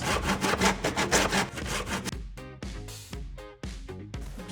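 A handsaw cuts through a wooden skirting board in fast, steady rasping strokes, then slows to longer, separated strokes, close and loud with no talking.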